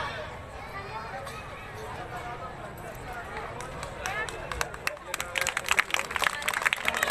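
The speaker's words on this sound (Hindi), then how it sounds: "जोरदार तालियां" An audience at a children's festival stage play bursts into applause. Clapping is scattered and mixed with crowd murmur at first, then grows louder and denser toward the end.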